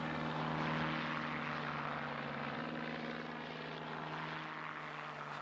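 Messerschmitt Bf 109F fighter with a DB601 engine flying, a steady droning propeller engine roar with a sustained low hum, moderately distant and unbroken.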